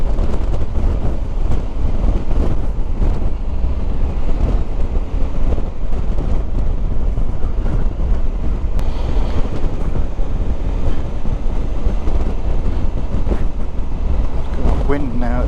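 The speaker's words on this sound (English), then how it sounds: "Got wind now, it's proper picking up, isn't it?" Strong wind roars constantly across the microphone on the Yorkshire coast, a heavy low rumble with water and waves churning beneath it, steady and loud throughout.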